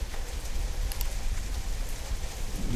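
Steady morning rain falling on surfaces, a dense even hiss of drops holding at moderate level throughout, with no voices.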